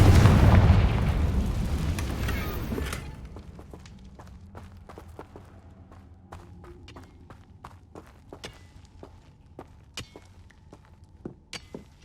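Loud, broadband fiery blast from the Confringo spell in Hogwarts Legacy, fired during a fight with a giant spider, rumbling for about three seconds before fading into scattered sharp clicks and footstep-like taps.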